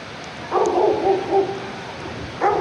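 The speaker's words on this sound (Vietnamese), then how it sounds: "Sau lưng có tiếng chó sủa." A dog barks in a drawn-out, howling way, two separate calls with a short gap between them, carrying from some distance behind a football pitch on a rainy day.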